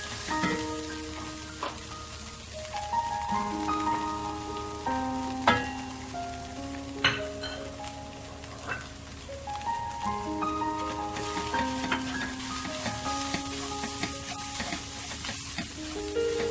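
Finely minced keema frying with spices in a pan over medium-low flame, a continuous soft sizzle broken by sharp clinks and scrapes of a spoon stirring against the pan, close and fairly quiet.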